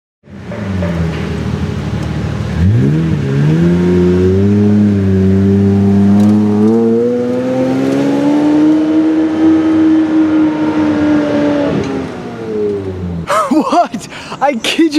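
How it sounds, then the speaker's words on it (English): A Ferrari LaFerrari Spider's engine revs up and holds a rising, sustained high-pitched howl close by, easing off before some sharp clatters at the end. "We just saw a one-of-one 7 LaFerrari Spider"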